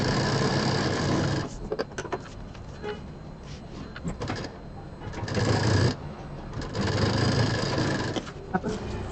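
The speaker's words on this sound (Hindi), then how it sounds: "तो अब इसको हम सिलना शुरू करते हैं।" A sewing machine stitches piping onto the fabric panel of a large bag, its steady close mechanical whir running in long bursts with brief pauses between runs.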